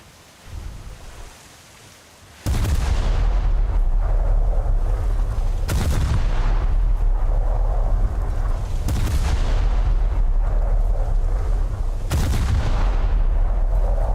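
Warship naval guns fire a salvo in the War Thunder video game: four heavy, booming shots at roughly three-second intervals, each with a long rumbling tail over a steady wash of sea and wind noise.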